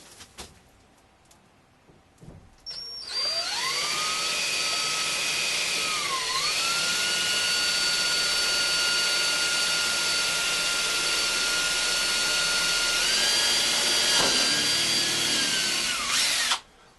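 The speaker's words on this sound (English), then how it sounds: "let's go ahead and drill those holes" A power drill fitted with a new bit bores holes through a Sterling shower panel, a steady loud whine holding for about thirteen seconds with a brief pitch dip early on and a shift near the end before stopping.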